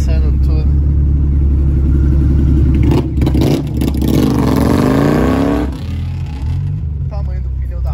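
Turbocharged VW Gol engine revving loudly and close by, a sweeping rise and fall of rpm with a rough clattering edge, while people talk over it.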